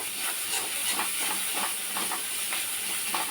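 Kashmiri chilli powder stirred through spices in a hot pan gives a steady loud hiss and sizzle, broken by soft scraping strokes at a regular pace.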